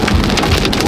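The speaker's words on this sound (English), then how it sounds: "And it's hail, it's lightning, this is wild." Dense, loud pelting of hail striking surfaces nonstop during a thunderstorm in Nevada, a steady roaring patter close by with storm noise underneath.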